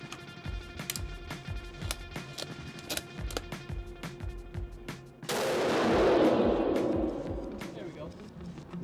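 Gunfire at the Savage Arms factory: sharp shots crack in rapid succession through the first five seconds, then a loud sustained burst of broadband noise follows. Voices are mixed in throughout.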